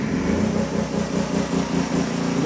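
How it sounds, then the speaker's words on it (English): A truck sleeper air conditioner compressor runs on inverter power inside a hotshot pickup cab, a steady close droning hum with a faint rhythmic pulsing, alone and fairly loud. "There, my compressor kicked on."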